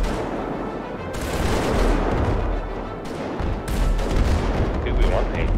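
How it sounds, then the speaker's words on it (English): Gunfire in the GTA 5 video game comes as dense, rapid bursts of shots in sustained volleys, loud and continuous, with a voice talking underneath. "keep shooting them for a bit."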